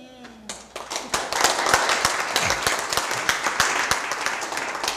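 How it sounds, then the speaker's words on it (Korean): Audience applause at a leadership seminar, starting with a few scattered claps and swelling into steady, fairly close clapping from a modest crowd that holds through to the end. "중간 박수 한번 하시겠어요?"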